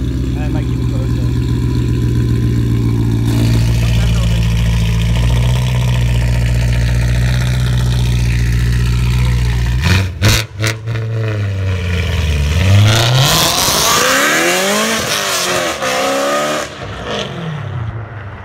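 A supercharged, bagged Liberty Walk BMW E92 M3 with a very loud exhaust idles with a deep rumble, then revs hard several times in rising and falling bursts, close and loud, with people talking faintly at times.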